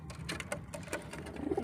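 A Madras pigeon coos softly and close by in a quiet room, a few low throaty calls over under two seconds.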